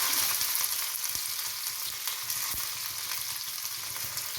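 Shallots hit hot oil already popping with mustard and fenugreek seeds, giving a bright, continuous sizzle with scattered crackles and a few sharp pops, close and alone.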